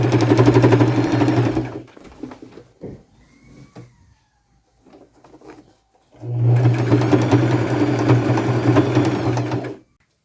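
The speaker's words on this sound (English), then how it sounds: "So I sewed all the way around" A sewing machine stitches a ruffle onto patchwork jeans in two long, steady, loud runs, the first lasting about two seconds and the second about three and a half. A quiet pause with soft handling noises separates them.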